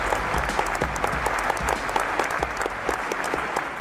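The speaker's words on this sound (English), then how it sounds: "So warm round of applause for Mr. J. Acunzo." Warm audience applause for a marketing keynote speaker, steady dense clapping from a crowd, sustained and even throughout.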